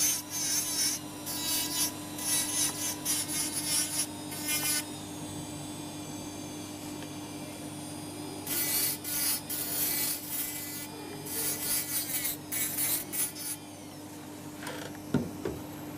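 A lower posterior denture tooth being trimmed with a dental grinding tool, giving steady rasping, rubbing bursts that start and stop over a constant motor whine, close up and without speech.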